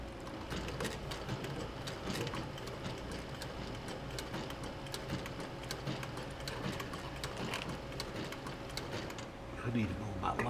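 A sewing machine stitches a leather camera bag, running a few stitches forward and then back, with a steady fast mechanical clatter close by throughout and a person talking over it at a low level.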